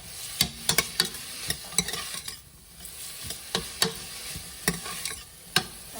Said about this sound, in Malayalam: ഒനിയൻ്റെ കളറൊന്ന് മാറി വരുന്നിടം വരെ നമ്മൾ ഇളക്കി കൊടുത്തുകൊണ്ടേയിരിക്കുക